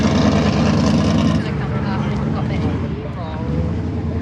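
A modified V8 engine idles loudly up close, a steady heavy rumble with some wind buffeting on the microphone, its tone easing slightly after the first second or so.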